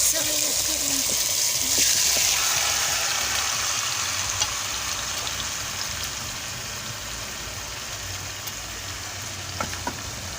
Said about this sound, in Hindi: अब हम इसमें ना ये चिकन डाल देते हैं और इसको अच्छे से फ्राई करते हैं